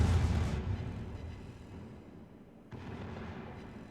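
Battleship USS Ohio firing a main-gun salvo in a naval combat video game, a deep booming blast that decays into a rumbling tail, followed by a second softer report, with no voices.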